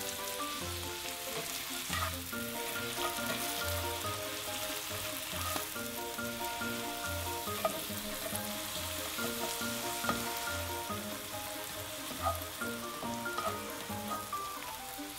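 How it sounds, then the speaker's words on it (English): Eggs for an omelet sizzle in hot oil in a pan, a steady, dense crackling fry with small pops, continuous and close, with no talking. "we want the oil to be hot because it's going to keep the eggs from sticking when we're cooking the omelet"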